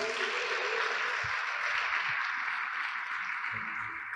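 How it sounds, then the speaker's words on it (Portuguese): A church congregation claps for the Lord in sustained, dense applause from many hands, steady and fairly loud throughout, with no individual voice standing out. "Dê mais um aplauso ao Senhor."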